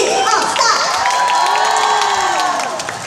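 A live stage show audience cheers and applauds loudly and continuously, with shrill whoops and screams rising over the crowd noise.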